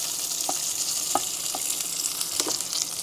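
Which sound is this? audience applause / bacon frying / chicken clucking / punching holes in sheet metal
bacon frying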